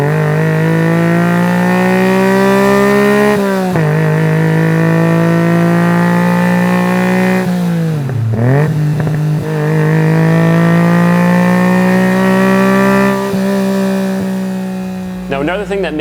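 A Honda sports car with a motorcycle engine revs up to 9,000 RPM, a loud, close, high-pitched wail climbing steadily, dropping briefly, then surging again before falling away at the end.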